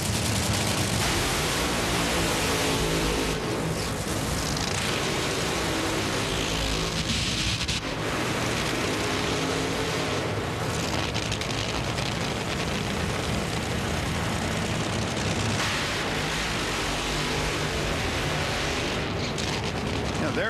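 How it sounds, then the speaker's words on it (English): Four-wide drag racing cars doing burnouts at a Myrtle Beach track, a sustained thunderous engine roar filling the whole stretch with brief dips, loud and overwhelming, with a commentator's voice faintly mixed in. "That is really amazing to see each of them come out for their burnouts."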